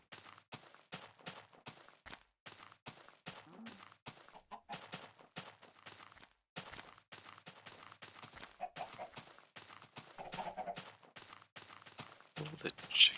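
Blocky Minecraft-style chickens clucking in short bursts amid rapid, regular footstep ticks on desert ground in a video game, fairly quiet, with someone talking intermittently over them.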